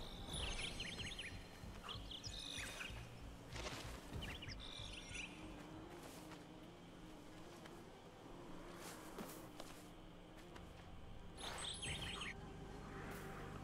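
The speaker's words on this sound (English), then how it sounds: "Why is he chirping?" Several short high chirps in Prince of Persia The Lost Crown, scattered in bursts across a quiet ambient bed with faint footsteps and soft insect-like texture.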